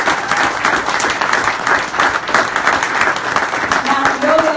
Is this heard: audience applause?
yes